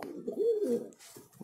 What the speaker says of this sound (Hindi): ये चंदा खानियों में से कबूतर